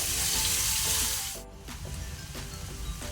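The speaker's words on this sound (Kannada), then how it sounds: "ಈಗ ಈರುಳ್ಳಿಯನ್ನು ಸ್ವಲ್ಪ ಫ್ರೈ ಮಾಡುವ." Large-sized onions with salt sizzle steadily as they fry in a pan for a yam stir-fry, a dense, close hiss that stays loud throughout and dips briefly midway, with faint tonal music underneath.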